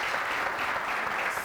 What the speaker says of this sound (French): Merci de faire beaucoup d'applaudissements pour ce monsieur.